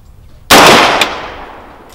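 A single loud, sharp report from an unsuppressed 7.62x39 AR-15 rifle, close by, followed by a brief echoing tail that fades over about a second.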